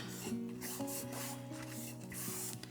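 Close, steady rubbing as a cloth soaked in rubbing alcohol wipes a sticky spot on a dingy thrifted jewelry box, a continuous soft scrubbing with a faint tonal hum beneath and no talking.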